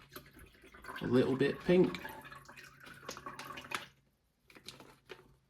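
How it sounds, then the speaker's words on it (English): Descaling solution poured into 500 ml of water in a coffee machine's water tank, a brief liquid splash and trickle near the mic, partly under a person talking, followed by a quiet pause and faint drips. "I'm now going to add that to our 500 ml of water."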